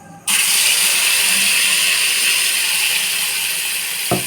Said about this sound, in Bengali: গোটা গরম মশলাগুলো ভাজা হয়ে গেছে এবার সেই পেস্টটা দিয়ে দেবো